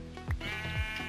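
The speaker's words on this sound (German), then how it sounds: "Oh, auch bist du ein kleines schwarzes Schaf?" A small black sheep in the video game Minecraft gives two short bleats about half a second apart over a faint steady game background, with no talking.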